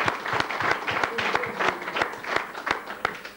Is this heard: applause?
yes